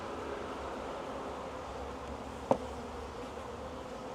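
Honeybees hum steadily in an open hive during a check of queen cells, a dense even drone with one brief sharp tap partway through and no voices.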